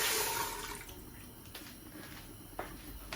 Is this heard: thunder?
no